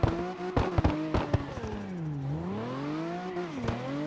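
A car being test driven in the CarX racing game on a custom track, its engine tone rising and falling through revs with several sharp clicks early on, steady and close without talk.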